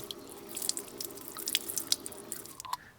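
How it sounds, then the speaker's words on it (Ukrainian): Irregular water drips and small splashes as a brass fishing lure is rinsed under running tap water, with quiet patter and no voices. "Промиємо в проточній воді."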